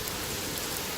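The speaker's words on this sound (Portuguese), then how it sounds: "A chuva chegou por aqui." Steady rain falls in Feira de Santana, Bahia, a dense, even hiss of drops on surfaces that holds at a constant level throughout, with no voices over it.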